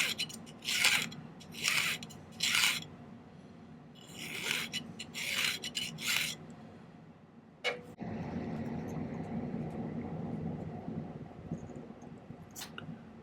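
Rhythmic rasping strokes of a file on silver while making a pinwheel prong setting, several bursts in a row, followed by a steadier scraping rub, close up with no talking.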